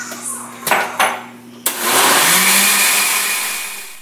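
Kitchen blender starting up to mix custard cream with rum and condensed milk, a loud, steady whirring roar after a few clicks and knocks, close by.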